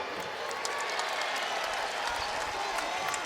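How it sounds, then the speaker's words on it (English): Basketball crowd at an NCAA game between Northern Kentucky and West Virginia cheering and applauding after a free throw, a dense, steady roar of claps and voices filling the arena throughout. "Crowd likes that."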